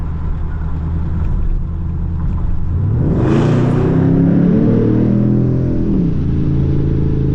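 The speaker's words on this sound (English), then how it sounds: "Hopefully we can hear the exhaust when I go under this bridge without too much wind noise." Exhaust of a fifth-generation Chevrolet Camaro SS driving on a highway under a bridge: a steady loud rush of road and wind noise, then an engine note that swells and climbs in pitch partway through, rumbling close up.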